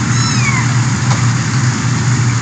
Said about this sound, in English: you have a bunch of kittens in front of you